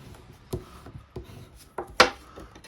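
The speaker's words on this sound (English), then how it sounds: "So I'm just going to fold and burnish that one." Cardstock tent-fold card being creased and burnished by hand: a few short, close scraping rubs spaced about half a second apart, the last one sharpest and loudest, alone with no talking.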